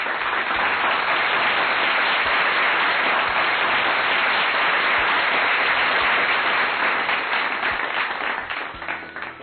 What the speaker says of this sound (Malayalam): ഒരു വെടിക്കെട്ട് കൈയടി കൊടുത്തേ.